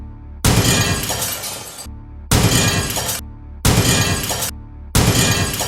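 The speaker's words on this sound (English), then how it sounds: "for the glass breaking sound effect" Glass shattering as a sound effect, a loud crashing smash with a spray of tinkling shards, repeated four times in a row with brief silent gaps between hits.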